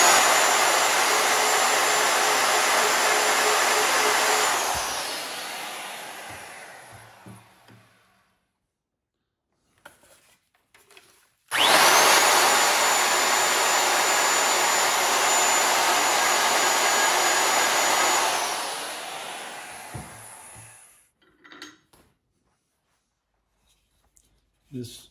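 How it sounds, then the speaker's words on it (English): Router boring anchor holes into a wooden drake pintail duck decoy body: two loud whining bursts of the motor, each spinning up, running several seconds and winding down, separated by quiet gaps with small clicks. "Also going to do the anchor holes with the router and also the keel screws for countersinking."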